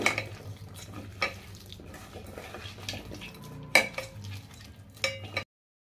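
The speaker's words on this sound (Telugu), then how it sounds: "దీన్ని ఇలా మెత్తగా ఇలా మిక్స్ చేసుకుంటాను." A spoon stirs and mashes a ground pepper and small tomato mixture in a metal vessel, with repeated scraping and a few sharp clinks against the side, close and alone.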